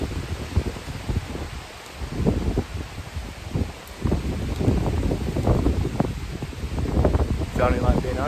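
Wind gusting and rising around a large sycamore tree being felled with axes, a steady broadband rush that swells and eases over several seconds, with leaves rustling.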